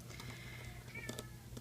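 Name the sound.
cat meowing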